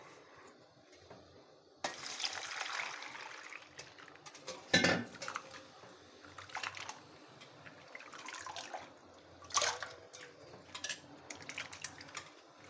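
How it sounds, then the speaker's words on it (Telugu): Raw prawns are washed by hand in water in a kitchen: splashing, sloshing water with clinks of a vessel and a few louder splashes, close and uneven throughout. "ఇట్లా మంచిగా వాటర్ తెల్లగా వచ్చేదాకా కడుక్కోవాలి నురుగు కూడా పోవాలి"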